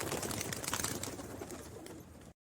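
Pigeon cooing in a short series of soft, throaty calls, moderately close and alone, fading out before the clip cuts off.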